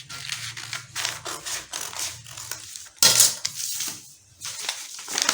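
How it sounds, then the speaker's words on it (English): Scissors snip through fabric while cutting out a blouse front neckline, a series of close, uneven crisp cuts and rustles with a brief louder crunch in the middle and short pauses between. "So I'm going to cut out the front neckline."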